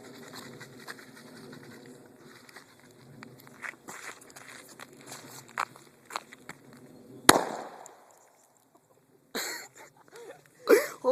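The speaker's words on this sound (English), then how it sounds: "That's how you make an airsoft grenade." A homemade baking soda and vinegar bottle grenade bursts with a single sharp, loud bang after several seconds of quiet shuffling and footsteps, followed by short bursts of excited voices.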